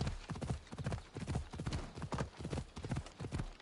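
Horse hooves clip-clop in a steady, rapid rhythm in Assassin's Creed Odyssey, a continuous trotting patter heard up close with no talk over it.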